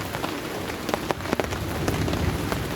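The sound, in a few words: heavy rain falling on tent at night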